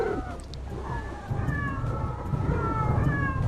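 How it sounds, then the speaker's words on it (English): Factory machines in the video game Techtonica meowing in cat sounds mode, a string of overlapping mewing calls layered over a steady mechanical hum and low rumble. "You can turn on cat sounds. And the machines will all meow at you."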